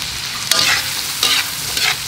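Ginger and white onions sizzle and fry in a pan with several short bursts of stirring, close and moderately loud, each scrape briefly louder than the steady hiss, with no voices.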